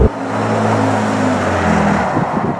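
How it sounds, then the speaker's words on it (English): A 2017 Ford F-150 Raptor pickup engine under full throttle, dropping from tenth to fifth gear, roars with a steady low drone heard from inside the cab, rising in pitch as the revs climb after the downshift. "I floor the accelerator, we're down to 5th."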